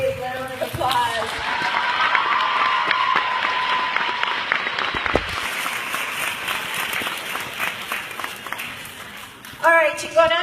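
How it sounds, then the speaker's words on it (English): A crowd at a closing ceremony gives a round of applause, the clapping full and sustained through most of the stretch. Voices come in briefly at the start and again near the end. "Please give Angela and Yesika a big round of applause."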